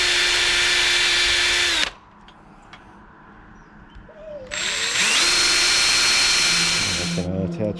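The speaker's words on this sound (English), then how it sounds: "I'm gonna pre-drill some holes here and here." A power drill pre-drills holes in a storm door frame, giving two loud, steady high-pitched whines of about two seconds each, separated by quieter handling noise.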